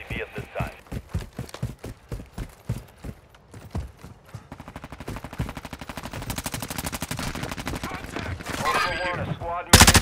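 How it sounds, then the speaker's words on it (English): Gunfire in Call of Duty Modern Warfare 2 DMZ, a PvP fight on Ashika Island, with slow single shots giving way to sustained rapid automatic fire that builds louder toward the end. "You are taking effective fire."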